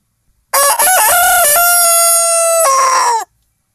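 A rooster crows loud and close, one long drawn-out call with a rising start and a held, wavering tail, among three roosters in a yard after a storm.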